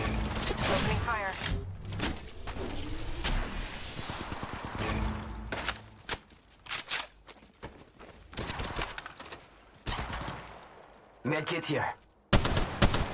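Bursts of gunfire from Apex Legends Mobile, with repeated rapid volleys and single shots in an uneven rhythm over the match noise, broken by short pauses, while a character voice calls out in-game lines.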